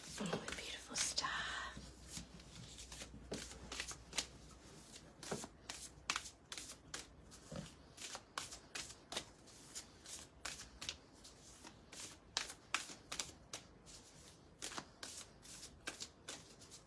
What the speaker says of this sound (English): It just wants me to really shuffle today really long